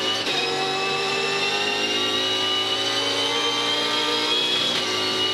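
Onboard view from James Courtney's V8 Supercar racing at the 2014 Tasmania 400, a loud sustained engine drone holding high revs, steady and close with harmonic whine, no talk.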